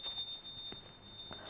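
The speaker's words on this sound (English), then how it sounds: "and please ring the bell as you do so." A small hand bell rings during a Hindu arati lamp offering, giving thin metallic chimes in quick irregular strokes at a soft, slightly distant level with no voices during the ringing.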